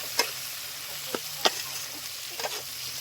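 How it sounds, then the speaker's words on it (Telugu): Sambar with turmeric being stirred in a pan, a few sharp spoon taps and scrapes against the metal spaced over a low steady simmering hiss, close and fairly quiet. "కలుపుకోవాలి, మంచిగా కలుపుకోండి."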